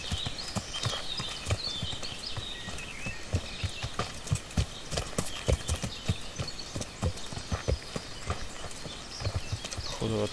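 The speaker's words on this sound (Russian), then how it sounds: "он, блядь, залез на лошадь и снова бежит" Galloping horse hooves in a knight-themed video game, a steady rapid clip-clop rhythm running throughout at close range, with game ambience beneath.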